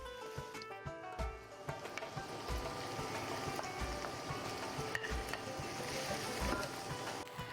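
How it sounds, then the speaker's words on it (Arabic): Onion and garlic sizzle and fry in a pan while being stirred, a steady crackling hiss with occasional scraping and clinks of the utensil throughout. "غادي نحركوه حتى اللون ديال البصل يتبدل"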